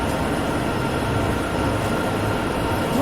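A long freight train rolls past in the Sherman Hill train simulator game, a loud, continuous rumble of wheels and cars on rail that holds steady throughout with no voices.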